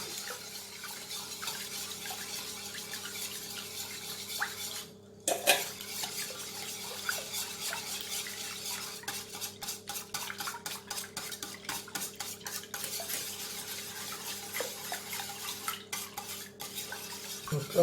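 Whisk or spoon stirring sugar and milk for a fruit tart filling in a bowl, a soft continuous swishing with a burst of quicker scraping strokes near the middle, fairly quiet, with no talk.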